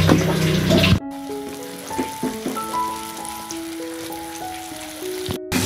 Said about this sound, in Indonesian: Setelah kita potong-potong, sekarang kita goreng ya